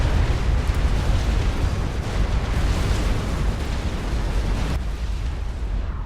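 A tactical missile strike explosion in the Supreme Commander video game, a loud, dense, continuous rumbling blast with heavy low end that roars steadily without letting up.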